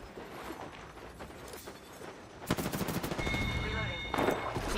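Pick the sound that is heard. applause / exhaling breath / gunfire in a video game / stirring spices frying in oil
gunfire in a video game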